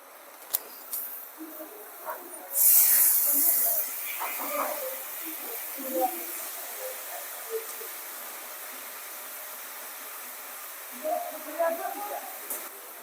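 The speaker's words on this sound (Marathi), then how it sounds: "आता थोडस परतून घेऊ मसाले परतून घेतलेत आता आपण याच्यात फुलं पण टाकून घेऊ" Bendri flowers and spices sautéing in a pan give a soft, steady sizzle, with a louder hissing burst early on before it settles back to a low crackle; a person talks over it at times.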